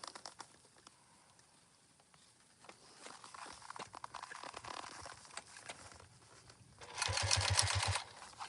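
A sewing machine stitches over thick webbing on a tote bag, a faint rapid mechanical patter that builds, then a louder, denser burst of stitching near the end.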